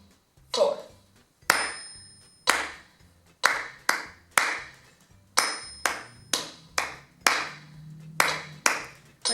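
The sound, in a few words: hands clapping a rhythm in 4/4 time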